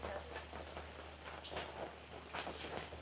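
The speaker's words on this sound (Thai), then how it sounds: "ฝนตกนี่ไง" Rain falls steadily, a soft broadband patter of drops on surfaces in Savannakhet, with a low constant hum beneath and a few brighter splashes. No one is talking.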